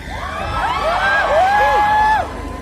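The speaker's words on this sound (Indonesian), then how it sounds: "Kasih tepuk tangan dong Bayu Skak dong" Crowd cheering and whooping at a live talk show taping in a shopping plaza in Surabaya, a loud burst of overlapping shouts and tonal cheers swelling and then cutting off after about two seconds.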